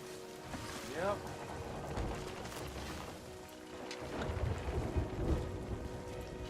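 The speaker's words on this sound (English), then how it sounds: "Here comes the rain as well." Rain and rolling thunder in a pirate ship video game, a dense hiss of rainfall with low rumbles swelling in the second half, while players talk over it.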